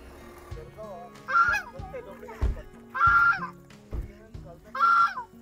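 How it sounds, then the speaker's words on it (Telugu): Ducks and other fowl on a dairy farm give repeated honking calls in three loud bursts, with lower background chatter between them. "ఇక్కడ బాతులు కూడా ఉన్నాయి"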